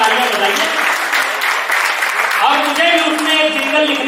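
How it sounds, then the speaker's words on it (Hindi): Audience clapping at a Hindi comic poetry recital, loud and close, with a voice and tonal sounds riding over the steady applause. "जोरदार तालियां बजाइए।"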